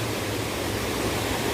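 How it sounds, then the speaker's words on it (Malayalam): A river at Anjukuzhi near an Erumeli temple flows downstream with a steady, unbroken rush of water, even and fairly loud throughout with no voices. "ഈ പുഴ ഇങ്ങനെ അങ്ങ് താഴോട്ട് ഒഴുകുന്ന കാഴ്ച നമുക്ക് കാണാം."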